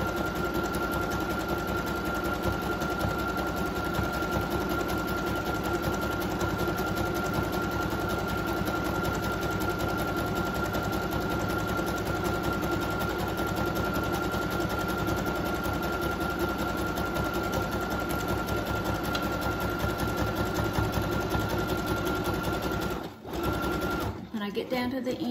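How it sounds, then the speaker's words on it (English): Sewing machine running a zigzag stitch along the cloth of a face mask with string ties, a close, loud, rapid continuous chatter that runs for over twenty seconds before cutting off. "So I'm just going to make a zigzag stitch."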